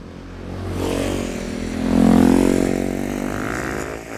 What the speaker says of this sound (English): Snow bikes. Half snowmobile, half motorcycle, full awesome.